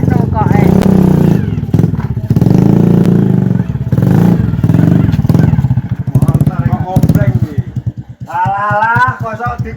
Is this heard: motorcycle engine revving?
yes